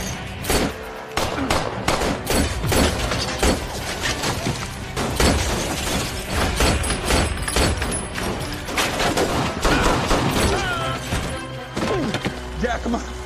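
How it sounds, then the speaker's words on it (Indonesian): Heavy, rapid gunfire with bursts of shots, thuds and impacts crashing continuously, loud and close, like an intense shootout, from the film RoboCop. "Tembak-tembakan pun terjadi"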